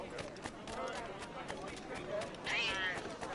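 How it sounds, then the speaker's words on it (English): A cat meowing in the Shadow Creed video game, a few short meows with a higher rising cry near the end, heard under steady game background noise. "Shut up, cat."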